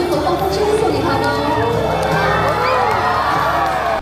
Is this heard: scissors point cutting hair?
no